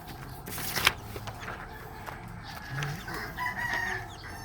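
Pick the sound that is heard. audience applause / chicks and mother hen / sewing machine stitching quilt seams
chicks and mother hen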